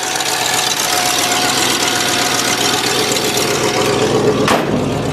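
An Oldsmobile engine idles steadily and close by after old stale gasoline has been worked through it, with a continuous rough rumble and a knocking edge that holds throughout, broken by one brief sharp bang near the end.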